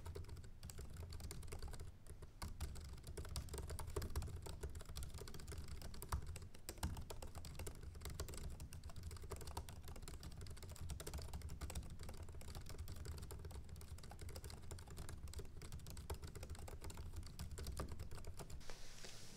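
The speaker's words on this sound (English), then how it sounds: "this is a typing test of the keyboard of the MacBook Pro" Continuous, fairly quiet clicking of typing on a MacBook Pro laptop keyboard, a dense, steady patter of keystrokes with no talk.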